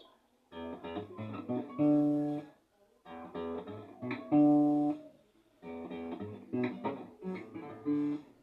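Strummed guitar chords ring out in three repeated phrases, each chord change clear and sustained, played alone with short pauses between.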